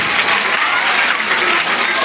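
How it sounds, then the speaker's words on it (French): A loud, dense burst of audience applause for a group of schoolchildren at a school launch event in Kinshasa, continuous clapping from many hands without pause. "applaudissez très fort pour ces enfants"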